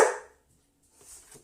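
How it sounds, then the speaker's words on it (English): A single sharp bark from a large dog up close, followed by a quieter, muffled yip or shuffle a moment later. "just excuse the dog."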